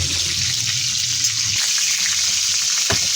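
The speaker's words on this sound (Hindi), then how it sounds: "हम इसको भी अब अच्छे से फ्राई करेंगे डार्क कलर में" Peshawari chapli kababs fry in oil with a loud, dense, continuous sizzle and a faint watery hiss, broken by a brief clatter near the end.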